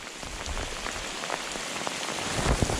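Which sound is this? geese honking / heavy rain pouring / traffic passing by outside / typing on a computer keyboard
heavy rain pouring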